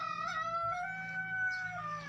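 A chicken calls with a drawn-out, tonal crowing note that holds steady for about two seconds, faint and fairly close, with no talk over it.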